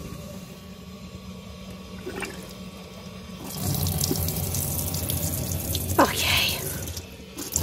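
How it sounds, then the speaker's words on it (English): Water from a caravan tap after frozen pipes were thawed, starting quietly and then gushing loudly from mid-clip with splashing, close by, with a brief spoken word. "let's get this through the tap and hope we don't spring a leak anywhere"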